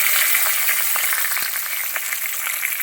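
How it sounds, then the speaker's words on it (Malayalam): Dried red chillies and curry leaves frying in hot oil, a steady bright sizzle with crackling pops throughout, close and fairly loud with no talking. "പത്തലമുളക്, അതായത് ഉണക്കമുളക് ഇട്ട് കൊടുക്കും."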